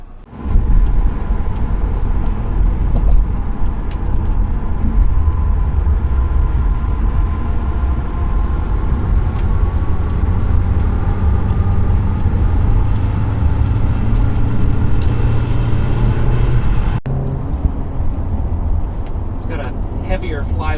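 A 2007 Audi A4 drives with a steady engine drone and road noise, the pitch rising through the run before a brief dip near the end like a shift; a voice talks over it much of the time.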